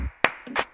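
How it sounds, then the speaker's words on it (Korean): Two sharp, close hand claps with a brief gap between them, made alone indoors during a review of a Revoltech Spider-Gwen figure. "박수 박수"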